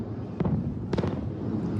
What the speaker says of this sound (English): The distant boom of missiles heralding a new and incredibly dangerous moment in the Middle East